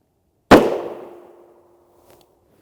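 A surplus rifle round strikes a Level IIIA rigid UHMWPE armor plate: one sharp, loud crack followed by a brief ringing decay, then quiet.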